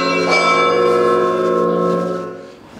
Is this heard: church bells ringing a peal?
yes